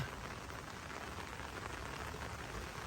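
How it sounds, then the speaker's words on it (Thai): Steady rain pours onto potted rose bushes, including a Burgundy-type rose in bloom, set in a windy outdoor spot; a dense, even hiss of drops hitting leaves and surfaces continues without pause for a few seconds. "นี่ดูสิฝนก็ตกใส่นะคะ"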